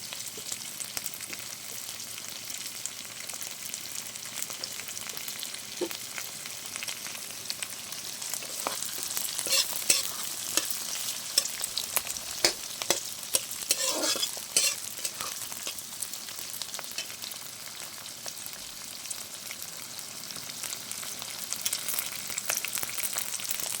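Chopped onion frying in a pan while being stirred, with a continuous sizzle and frequent scraping and clattering of the spatula, busiest in the middle stretch.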